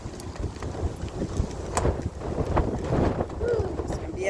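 Wind buffets the microphone outdoors on a short bike ride, making a continuous rumbling roar. The noise is loud, gusty and close, and faint speech is mixed in.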